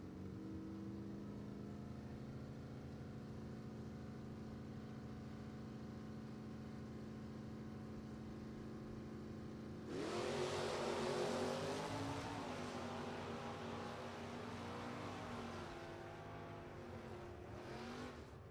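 Mopar drag racing cars rumble at the starting line at a dragstrip, a steady heavy engine drone that swells abruptly into a louder, roaring launch partway through, with no talking.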